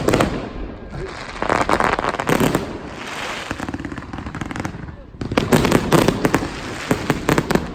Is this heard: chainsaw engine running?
no